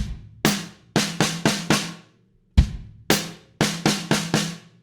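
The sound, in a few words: drum kit fill bar, drum lesson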